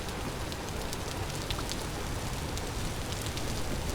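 Steady rain falls in a rainy-season video game world, a dense, even hiss of drops with scattered brighter pattering, continuous and fairly close, with no talking.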